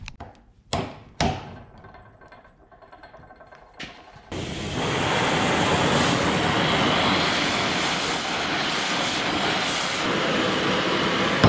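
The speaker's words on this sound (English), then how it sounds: "Let me go clean them up on the grinder a minute." A bench grinder cleans up heat-bent metal pieces. A few sharp metallic knocks come first, then a loud, steady grinding roar starts and holds to the end.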